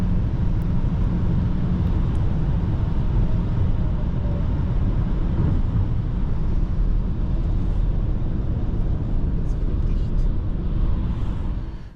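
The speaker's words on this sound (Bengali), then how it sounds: "জাস্ট বাতাসের শব্দ" Steady broadband wind and road roar inside a BMW 316d travelling at high speed on an unrestricted German highway, a loud continuous rush with low rumble lasting throughout, no voices.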